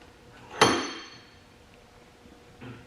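A Ryobi C4618 chainsaw is clamped into a vise with a single sharp metallic clank, followed by a quieter knock a couple of seconds later, close by in a quiet workshop.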